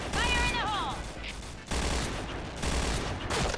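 A G11 rifle in the Point Blank video game fires rapid three-round bursts, with loud repeated gunfire from the match and a voice talking over it.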